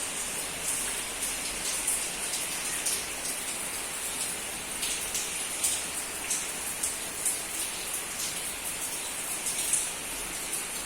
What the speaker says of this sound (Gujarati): આજે આવે છે વરસાદ